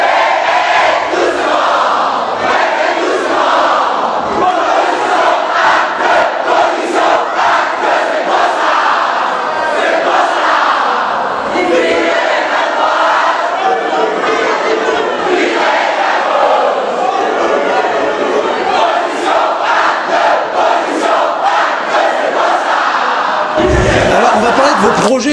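A packed club audience at a live comedy show in Orléans cheers, shouts and roars continuously, loud and dense throughout, with voices yelling over the din.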